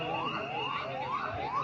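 An ambulance siren wails in repeated rising sweeps at an earthquake rescue drill in a stadium, steady and moderately distant against a constant background wash.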